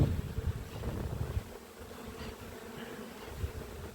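Honey bees hum in a dense, continuous swarm around an opened hive during an inspection and split, with some low rumbling handling noise early and light wind.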